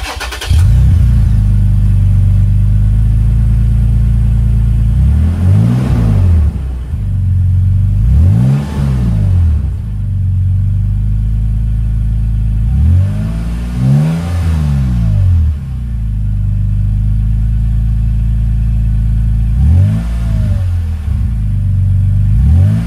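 Toyota Tacoma pickup fitted with a new Runnin4Tacos overland exhaust, droning steadily as it drives, with repeated revving surges that rise and fall every few seconds, loud and close throughout.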